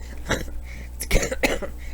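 Several short, breathy coughs come in uneven bursts close to the mic, with faint room noise between them.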